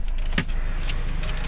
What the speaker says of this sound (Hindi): सो चलो अभी आपको सुनाते हैं गाड़ी की आवाज़